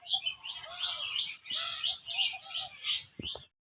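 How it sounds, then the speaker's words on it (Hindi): Small birds chirp and tweet in a flower garden among shisham and guava trees, a steady run of bright, repeated calls close by that continue for several seconds with no talking. "चिड़िया यहाँ चहक रही हैं।"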